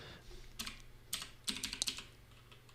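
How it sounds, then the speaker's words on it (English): Keys clatter on a computer keyboard in quick bursts of close, crisp clicks, a short run of typing with brief pauses between groups of keystrokes in a quiet room. "I'm going to type Hello World and press Enter"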